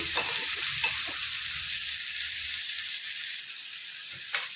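Onions frying in oil with turmeric in a pan for mulakaya masala, a steady hissing sizzle with a few soft stirring knocks early on, gradually calming, no voices.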